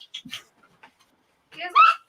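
Small dogs wearing sweaters give a few faint whimpers and yips early on, then a louder, higher whine near the end, brief and close in a quiet room.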